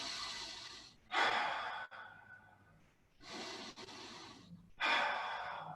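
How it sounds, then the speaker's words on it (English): Deep breaths during a Pilates class, two long inhalations and exhalations in separate bursts, close and clearly audible with short quiet gaps between them and no talking. "2 big deep breaths in."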